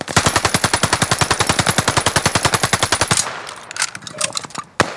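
Rapid automatic gunfire from a newly bought weapon in the Call of Duty: Vanguard video game, a steady rattling burst of about three seconds, loud and close, followed by scattered quieter game sounds and one sharp shot near the end.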